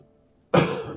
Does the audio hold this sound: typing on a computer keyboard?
no